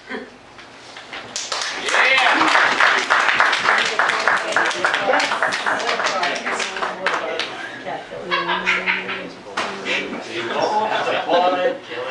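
Applause from a live audience at a performance, building quickly into sustained clapping mixed with laughter and voices, loud and continuous for several seconds.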